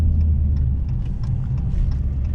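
A 2017 Dodge Challenger engine pulls at partial throttle, a loud, close, deep rumbling drone with a faint rhythmic pulse throughout, with no talk.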